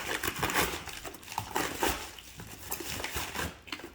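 PC parts being unboxed, with plastic packaging crinkling and rustling in close, irregular bursts alongside light handling knocks.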